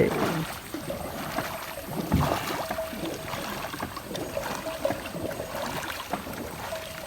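Paddle strokes dip and splash in a small boat on open water, steady rhythmic splashes and trickling water close by, with no talk.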